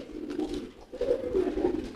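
Male pigeons cooing during courtship, driving hard after a female: deep throaty rolling coos, close and fairly loud, repeated in two bursts with a brief pause between, and no talking.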